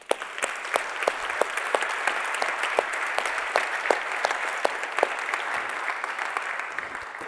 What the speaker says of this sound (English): please just give a round of applause